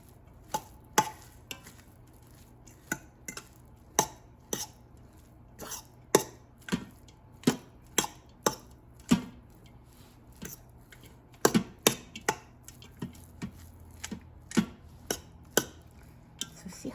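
Cooked Mexican rice being stirred in an Instant Pot, a series of sharp, irregular ticks and clacks from a utensil against the pot, close and fairly quiet with no voices.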